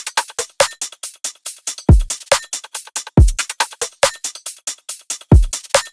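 A full drum loop plays with booming kicks, snappy snares, layered top loops, fast hi-hats and off-kilter percussion hits, all in a steady, dense repeating pattern. It is loud and up front, with no voices.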